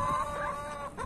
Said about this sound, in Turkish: Tavuklar gayet sağlıklı vallahi.